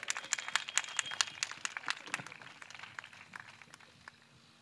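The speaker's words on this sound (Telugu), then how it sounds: "చప్పట్లు కొట్టండి." A congregation claps steadily in rhythm at a gospel revival gathering of Holy Gospel Church in Narukullapadu, Amaravati, with faint, evenly spaced claps that thin out toward the end.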